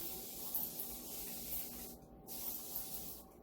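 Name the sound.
spraying water onto a wooden sign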